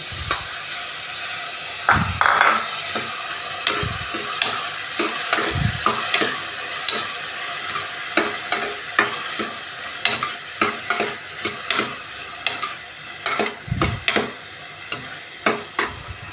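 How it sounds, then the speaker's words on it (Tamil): Onions or aromatics are sautéed in a pan as the base for a mutton gravy, with a steady sizzle broken by frequent spoon strokes that scrape and tap the pan, close up and without speech. "கொஞ்சம் பொன்னிறமாக வந்த பிறகு வரைக்கும் அது வதக்கி விடணும்"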